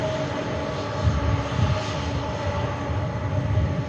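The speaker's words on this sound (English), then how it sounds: "What a strange plane that is." Boeing 747 jet arriving at Manchester airport, a steady, loud roar of aircraft engines holding throughout with a low rumbling undertone and slight swells in volume.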